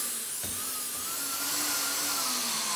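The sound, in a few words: Hoover vacuum cleaner running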